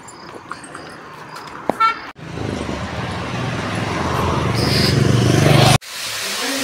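Cars passing on a wet main road below a house, with a short horn toot near the start followed by steady, swelling tyre hiss and road noise that builds before cutting off.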